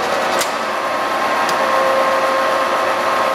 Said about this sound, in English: There's your rapid. Table feeding out.